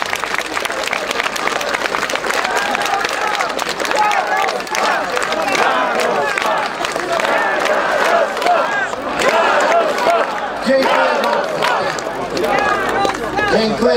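A dense crowd at a Polish political rally marking the monthly Smolensk disaster commemoration shouts and chants continuously, loud and steady with rhythmic claps and cries throughout.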